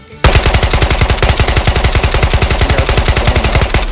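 Automatic gun firing with heavy recoil in the VR shooter Ghosts of Tabor, a loud, unbroken burst of rapid, evenly spaced shots that starts abruptly and runs nearly four seconds with no talk.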